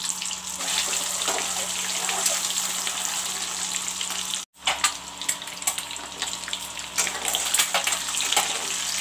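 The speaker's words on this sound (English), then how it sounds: "Now I'll put in the eggs to fry." Boiled eggs fry in hot mustard oil, giving a steady broadband hiss and crackle that runs nearly throughout, broken by one brief silent gap midway, with no talking.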